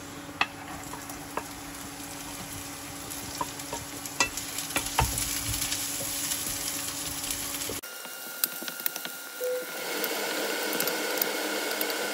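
Chopped onions dropped into hot oil with golden-brown garlic, a close crackling sizzle with scattered stirring clicks that shifts to a brighter, fuller fry partway through.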